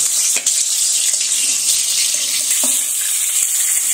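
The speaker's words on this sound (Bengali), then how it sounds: "তেলটা গরম হয়ে গেছে, এবার ম্যারিনেট করা মাংস টুকরোগুলো দিয়ে আমি ভেজে নেব" Marinated chicken leg pieces fry in hot oil in a home kitchen, giving a steady bright hiss and sizzle with a few sharp pops and crackles, close and continuous with no voices.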